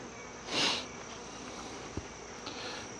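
Honeybees on a frame from a small nucleus hive split from a larger colony, with a newly mated queen, give off a faint, steady buzz close by, and a brief rush of noise rises early on.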